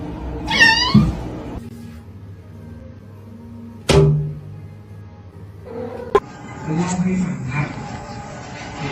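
A kitten gives one short, clear, rising meow near the start, followed by a couple of sharp thumps and a louder knock in a quiet room, then a stretch of soft rustling background noise.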